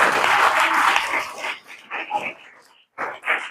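Students in a classroom break into loud applause for about a second and a half, then the clapping thins out into scattered claps and soft voices.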